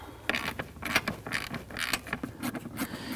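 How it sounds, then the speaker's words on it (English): A stubby ratchet fitted with a 7mm socket loosens a hose clamp on a 2001-2009 Volvo S60 2.5L five-cylinder during radiator replacement, giving a run of quick, close metallic clicks and creaks in uneven bursts. "We're going to use our 7mm socket and our stubby ratchet"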